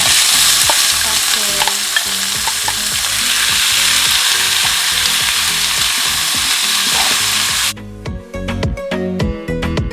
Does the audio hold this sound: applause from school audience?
no